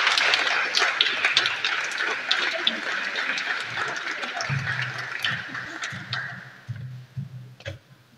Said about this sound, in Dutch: Mag ik een driedimensionaal applaus?